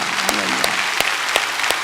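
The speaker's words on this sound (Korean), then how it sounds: "우리 아이들을 위해서 박수하겠습니다." Church congregation applauding for the children during a Korean church sermon, a steady wash of clapping with a few sharper claps, while a voice speaks over it.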